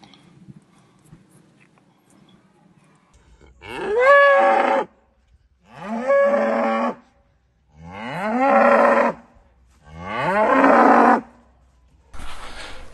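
Cattle in the New Forest at Aldridge Hill, five long loud bellowing moos spaced a couple of seconds apart, close by, with quiet background between calls.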